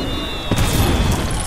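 Fireworks bursting at a wedding in the Lego Harry Potter video game, a loud crackling fusillade of booms that swells midway through the short moment and stays dense to the end.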